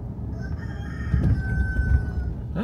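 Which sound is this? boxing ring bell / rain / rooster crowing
rooster crowing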